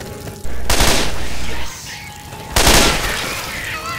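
Loud, close video-game gunfire breaks out in two heavy bursts of rapid booming shots, each about a second long, separated by a quieter stretch of background game noise.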